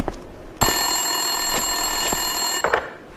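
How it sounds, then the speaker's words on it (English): A desk telephone rings in the video game Max Payne 2, one long steady electronic ring lasting about two seconds, loud and close, with faint clicks before and after and no talk. "Winterson's phone was ringing."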